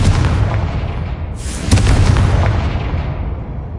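Confringo blasting spell in the Hogwarts Legacy game lets off a loud booming explosion over a rumbling background, with a sharp crack, then a heavy roar that slowly fades away.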